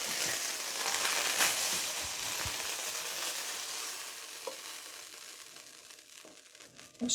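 Chili con carne being stirred in a hot pan, a soft broadband sizzle with scraping stir strokes, fairly close and gradually fading quieter toward the end, with no talking.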